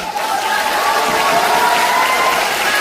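An audience at a Korean traditional folk music session applauds steadily and loudly throughout, a dense continuous wash of clapping with crowd voices mixed in.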